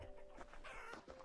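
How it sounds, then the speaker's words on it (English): Chickens cluck in a homesteading chicken coop in Vintage Story, with a quick run of soft, choppy clucks over a low background drone and a faint steady tone. "We got chickens now."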